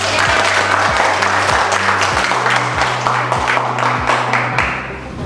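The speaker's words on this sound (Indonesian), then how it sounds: "Boleh tepuk tangan untuk kita." A classroom group of students claps together in loud, close applause, with some sharper rhythmic claps mixed in and low steady hum beneath.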